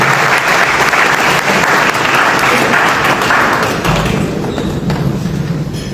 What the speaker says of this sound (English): So we need to give him a round of applause because he made this happen